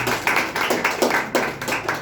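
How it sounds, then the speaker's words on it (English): A small group claps at a speaking-practice session, the individual claps uneven and close together, moderately loud with a slightly irregular rhythm. "Okay, clap for her initiative."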